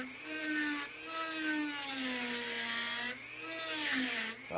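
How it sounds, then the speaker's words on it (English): A Dremel rotary tool at medium speed grinds into a motorcycle fuel tank, a close, loud whine whose pitch sags and rises as it bites, with brief dips in between passes. "I get my Dremel turned up to just about a medium speed, and then I'm going to actually start tearing right into this thing"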